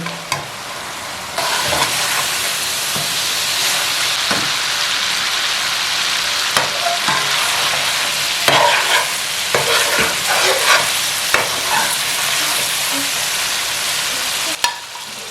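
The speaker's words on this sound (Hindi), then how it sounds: "अच्छे से चिकन की भुनाई करेंगे और हल्का हल्का ब्राउन कर लेंगे।" Chicken coated in biryani masala fries in a pot and browns, with a loud, continuous sizzle broken by repeated scraping strokes as it is stirred.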